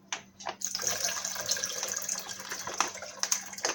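Water from a tap gushing steadily into a bag of seasoned ingredients to rinse the seasoning off while making Instant Pot jambalaya, a continuous close splashing rush after a couple of short opening bursts.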